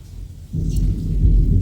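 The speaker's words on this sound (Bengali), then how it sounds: "বাইরে প্রচণ্ড মেঘের গর্জন হচ্ছে" Thunder rolls outside during a rainstorm, a sudden loud low rumble that swells after a quiet start and keeps growling, with no voices.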